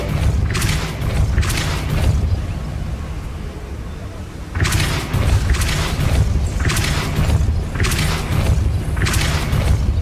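Depulso spell cast in the game Hogwarts Legacy: repeated booming whooshes, several strong bursts over a loud continuous rumbling game soundscape.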